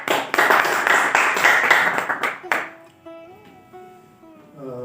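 A live audience at a Pashto poetry gathering of young poets in Kabul claps to welcome a poet, with dense, steady applause that fades out after a few seconds into quiet, followed by a voice and some faint tones.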